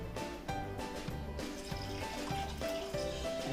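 Vinegar pours from a bottle into a container in a kitchen while chicken is prepared, a faint, close, gurgling stream with glugging pulses that shift pitch as the liquid flows.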